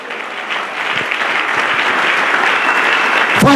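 Congregation applauding at a Sunday worship service: steady, loud, sustained clapping from a large crowd throughout, swelling slightly toward the end.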